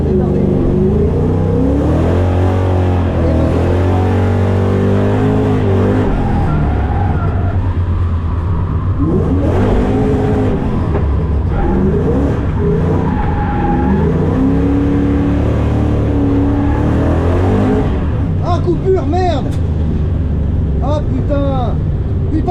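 A Ford Mustang drift car at a round of the French drift championship in Val d'Argenton, its engine droning and revving steadily close by, with tyre squeals late on and people talking over it throughout.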